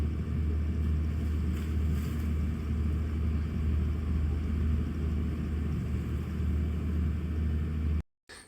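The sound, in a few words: boat ride on Alappuzha backwaters, engine rumble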